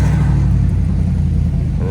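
Deep, loud rumble of a 2010 Ford Mustang GT V8 with its exhaust valves open, heard close up as a steady low burble while driving.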